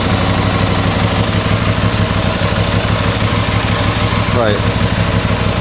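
An Aprilia RS660 sport motorcycle idling after a repair, running with a steady, loud, continuous engine drone close by, with a voice briefly speaking over it near the end.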